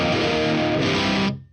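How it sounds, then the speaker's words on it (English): Electric guitar played through a Marshall Valvestate AVT150H amp on an overdrive setting with the gain at noon and the volume high: a single loud, sustained distorted chord that rings briefly and then cuts off. "Let's go into the overdrive tones because that's what you guys are here for"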